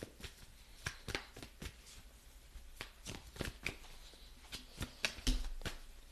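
Tarot cards being shuffled by hand in a series of crisp riffling bursts and flicks, close and fairly quiet, with no voices.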